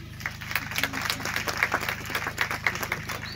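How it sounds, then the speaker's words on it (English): An audience claps hands in a hall during a speech by a State House aide, a steady patter of many hands over a low constant hum, moderately loud with no speech over it. "Please clap your hands."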